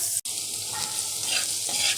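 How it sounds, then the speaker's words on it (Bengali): Bay leaf, green chilli and chopped onions stirred in hot oil for a home-style gizzard, liver and pea curry, giving a steady close sizzle with scraping strokes of a spoon and a brief sharp clack near the start. "এবার নাড়াচাড়া করে নেব। তেজপাতা, কাঁচামরিচ আর পেঁয়াজগুলো গরম তেলে।"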